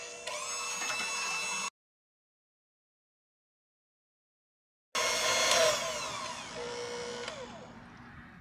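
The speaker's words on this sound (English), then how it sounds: "So just get an electric whisk. Start it off slow at first," An electric whisk whipping cream for a pie, a steady loud whirring motor that cuts out for a few seconds and then starts again close by, with no talking over it.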